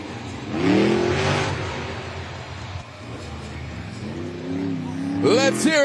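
A Monster Jam monster truck, Uproar, revs loudly in a stadium arena at a Nashville event, its engine surging and falling under a crowd and the announcer talking over it.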